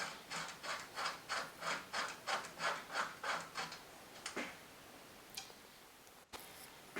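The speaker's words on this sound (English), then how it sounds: "screw in the crank puller until it comes under tension" A crank puller is screwed into a bicycle crank during a Calibre Bossnut 2020 bottom bracket change. It makes about ten close, rhythmic rasping turns, then a few scattered metallic clicks and taps.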